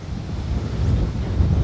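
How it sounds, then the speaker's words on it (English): Wind gusting across an open golf course in South Australia, a steady low roar buffeting the microphone for the whole stretch, strengthening toward the end with no talk over it. "So windy."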